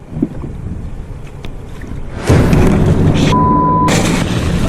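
A shark bites a kayak on open water: a sudden heavy thump cuts in over wind and water noise, followed by a loud, sustained splashing rush close to the microphone, with a brief steady tone partway through.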